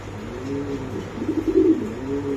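Spanish Porter and Budapest pigeons coo in a short, close, rolling burble over a low steady background hum.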